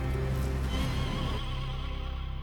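A horse on a homestead farm gives a loud, close whinny with a shaky, wavering pitch that trails off, and faint hoof sounds show up early on.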